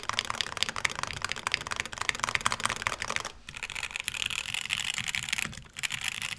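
Stock switches on a Mode80 mechanical keyboard clatter in dense, rapid typing, with a brief pause before the keystrokes resume at close range.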